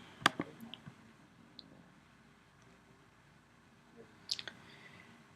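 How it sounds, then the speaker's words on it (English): A computer mouse clicks on an on-screen button, giving a pair of sharp, close clicks at the start and another brief cluster near the end against a faint background hiss. "When I'm ready to make changes, I'll click that button."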